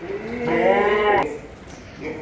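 A male goat shown at a livestock gathering lets out one loud, drawn-out, nasal bleat that lasts under a second, then background noise and faint voices follow.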